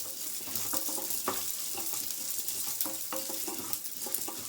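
Chana dal and urad dal roast in oil in a pan, giving a steady close sizzle broken by scraping stir strokes and small clicks from the spoon against the pan.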